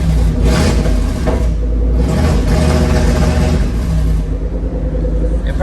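A 3UZ V8 swapped into a Nissan 240SX, running rough, roars with a loud, steady, close engine drone, its pitch surging and easing as it is revved for several seconds.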